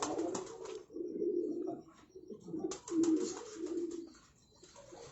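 Prize-bred racing pigeons in a Rawalpindi loft give deep, throaty coos in repeated rolling phrases, close and fairly loud, swelling and fading over a few seconds with light chirps mixed in.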